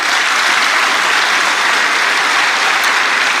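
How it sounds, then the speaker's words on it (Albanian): Sustained applause from an audience at a political meeting of socialist women, a thick, even roar of many hands clapping without a break. "për cilat unë ju kërkoj një duartrokitje."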